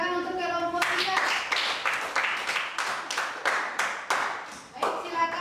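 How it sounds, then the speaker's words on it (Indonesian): Classmates in a classroom clap for a student group after its skeleton-model project presentation, with fast, ragged clapping running steadily for several seconds between brief speech at the start and end. "Ya, tepuk tangan untuk kelompok 3."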